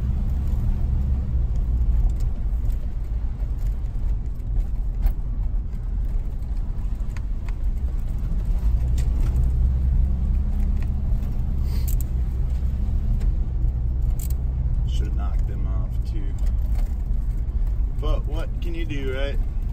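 A two-wheel-drive vehicle driving in winter, its engine and road noise a steady low rumble throughout, with a person talking inside over it.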